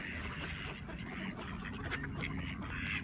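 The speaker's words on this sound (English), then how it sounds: "Wild mallard ducks." Faint wild mallard ducks quacking at a distance by a creek, a few scattered calls over quiet outdoor background noise.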